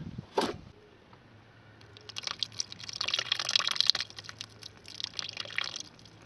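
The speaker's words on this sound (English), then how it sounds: "I'm going to put some water down the pipes leading to the heater matrix to clear out all the brown gunge." Water poured down the pipes leading to a Mini's heater matrix, a sharp knock followed by gurgling, trickling flow that swells and fades in uneven bursts, close and alone.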